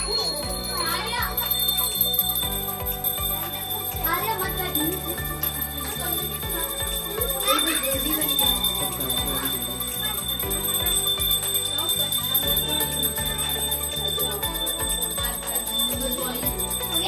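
A bright metal prayer bell rings repeatedly and persistently during a Hindu aarti at a home Kanya Pujan, while children chatter and voices talk throughout.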